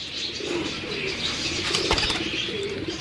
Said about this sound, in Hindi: ये लाल आंख के जुरे कबूतर हैं उस्ताद जी के